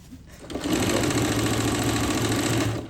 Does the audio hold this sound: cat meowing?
no